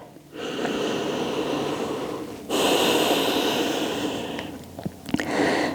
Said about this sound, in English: Soft, slow breath.